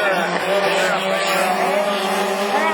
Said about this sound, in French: Alors que Nicolas Bezard revient là-bas au freinage dans le virage